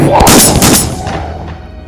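A loud, booming explosion with a sharp burst that rumbles and fades away over about two seconds.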